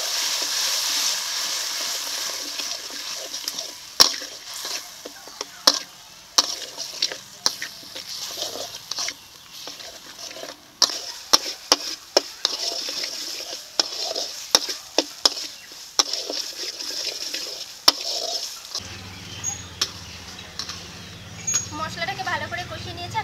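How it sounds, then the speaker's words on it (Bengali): Spice paste of chili powder, tomato paste, turmeric and salt frying in a pan for an egg omelette curry, with a broad steady sizzle, repeated sharp spatula scrapes and taps, and a wetter bubbling change near the end. "এখন মশলাটাকে ভালো করে কষিয়ে নেব।"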